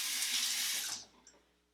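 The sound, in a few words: tap water running to wet exfoliator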